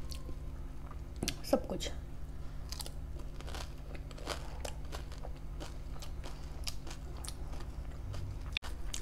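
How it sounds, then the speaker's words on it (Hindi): Crunchy dahi puri being bitten and chewed close up, a run of irregular crisp crunches and soft squishes, with brief speech in between. "तो बहुत क्रंची भी लग रहा है, मीठा लग रहा है, हल्का चटपटा लग रहा है,"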